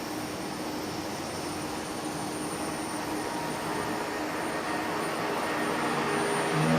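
An aircraft on the runway at Nagasaki Airport gives a broad, continuous engine roar that swells slightly toward the end as it rolls down the runway, heard from a distance with no voices.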